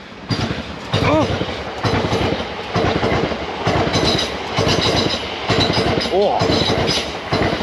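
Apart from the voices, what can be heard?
passing train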